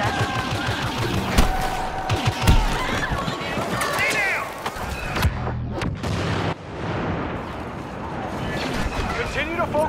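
Blaster fire rains on an AT-AT walker in a Star Wars Battlefront walker assault match: dense, rapid volleys of shots and heavy booms, loud and continuous, with a voice talking over the battle.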